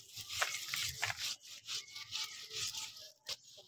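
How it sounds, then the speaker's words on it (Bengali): Ripe palmyra fruit is rubbed by hand to squeeze out its pulp, a close, quiet series of irregular scraping strokes with short pauses between them. "ঘষে ঘষে সব নোদা বের করে নিচ্ছি"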